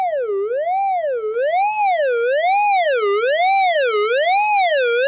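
A synthesized dub siren built on a sine wave with dirt distortion sweeps up and down in a steady wobbling cycle, turning grittier and brighter partway through, loud and alone.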